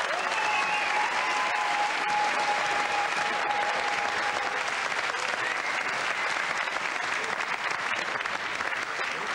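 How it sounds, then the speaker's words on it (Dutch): Dense, sustained applause from a studio audience on a 1994 Dutch TV programme, steady and loud throughout with no voices standing out. "Een enorm applaus voor Annie van Zelden."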